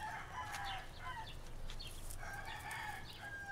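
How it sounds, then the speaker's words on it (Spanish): Roosters crow repeatedly, one after another, over a steady low rumble of background noise; the calls sound moderately distant. "Y aquí van a escuchar gallos por un lado y por el otro."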